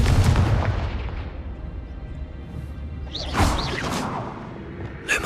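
Fiery Confringo blast spell cast in Hogwarts Legacy, a loud burst of whooshing fire and crackling impact with a second flare near the end, no talk.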